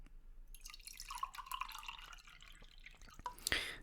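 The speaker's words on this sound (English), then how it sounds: "I'm going to pour you a cup of coffee as well." Coffee poured into a cup in a quiet ASMR setting, a close, soft liquid stream and gentle splashing and trickling that swell then settle, ending with a small clink.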